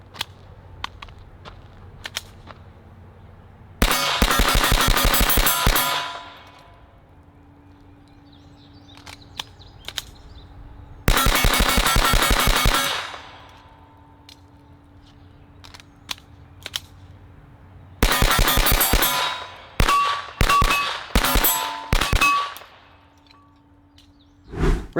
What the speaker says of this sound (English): Really quickly want to interrupt the shooting.